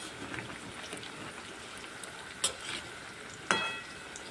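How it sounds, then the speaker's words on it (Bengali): Pieces of green banana fry in hot oil on a high gas flame, a steady soft sizzle with a couple of sharp clinks of utensils, close and alone without talk. "এখন আমি কলার টুকরোগুলো তেলের মধ্যে ছেড়ে দেব।"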